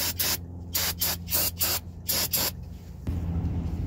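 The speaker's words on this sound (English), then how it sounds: "And then use a little bit more brake spray." Brake cleaner hisses out in a series of short, sharp spray bursts onto Kia Sorento rear brake parts, about eight quick squirts in a row, then a quieter hiss.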